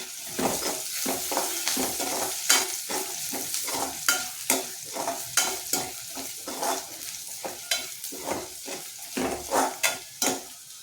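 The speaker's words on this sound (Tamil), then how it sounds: "இந்த சுண்ட வத்தலையும் மிளகு தக்காளி வத்தலையும் இதில் போட்டுக்கிறேன் இந்த எண்ணெயிலே வதங்கட்டும்" Steady sizzling of dried turkey berries and sun-dried pepper-tomato pieces frying in oil, with repeated stirring scrapes in an irregular rhythm, close and fairly loud, no voices.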